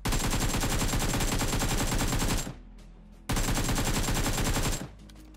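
Sustained automatic gunfire in the mobile battle royale BGMI, loud dense bursts of rapid shots lasting over two seconds, a brief lull, then another long burst, with no voices.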